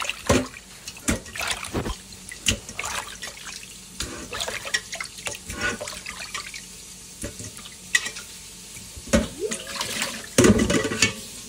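Kaika fish rinsed under running tap water, irregular splashes and drips with sharp bursts as the fish is handled, moderately loud and close, no talking.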